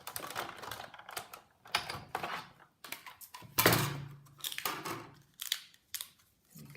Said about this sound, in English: And then I'm still not done with my Big Shot.